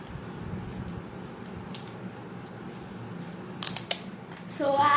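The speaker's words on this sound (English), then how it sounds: "So I'm just gonna cut some tape," Scissors snipping tape while making origami paper heart jewelry, a few sharp close cuts near the end over faint background noise.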